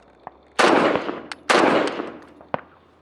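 Two suppressed 5.56 rifle shots from a Huxwrx Flow titanium suppressor, fired with green tip ammunition, land as loud, sharp cracks with decaying tails, with metallic clinks before and after.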